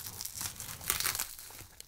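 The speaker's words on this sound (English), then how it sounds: "bubble wrap paper." Bubble wrap paper crinkles and rustles close up as it is pulled away from a heavy chess set during an unboxing, a continuous papery crackle with sharper peaks midway and no talking.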